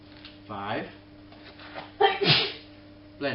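A single sharp sneeze bursts out in a home kitchen during dessert preparation, loud and close, with people talking before and after it.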